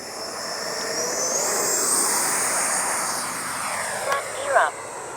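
Freewing Avanti S V2 RC jet fitted with a Freewing afterburner, flying overhead with a steady high-pitched whine that swells and fades at a distance, while someone talks over it.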